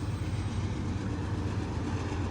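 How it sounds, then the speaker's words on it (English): A Norfolk Southern freight train rolls past close by in Dayton, Ohio, a steady loud rumble of wheels and cars with faint rail clatter, continuous and with no talk. "this Norfolk Southern train was going faster"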